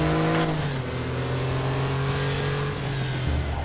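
A Porsche Carrera race car engine at Laguna Seca in a racing game, a loud, sustained droning howl holding near-steady pitch with slight shifts as the car is driven.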